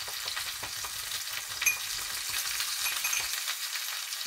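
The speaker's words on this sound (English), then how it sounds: "And then we just stir this together." A honey and apple cider vinegar glaze for half chicken is stirred, giving a soft wet scraping and sticky swishing close by, with a couple of faint clinks from the utensil.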